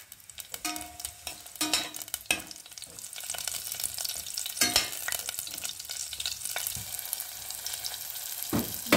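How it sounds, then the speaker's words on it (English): Sliced garlic and chilies frying with cumin seeds in a pot for dal, a steady close sizzle broken by repeated scraping stirs and clatters of a utensil against the pan. "I will slice them and then I will let it fry with that jeera"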